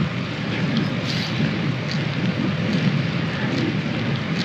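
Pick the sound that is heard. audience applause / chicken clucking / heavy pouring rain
heavy pouring rain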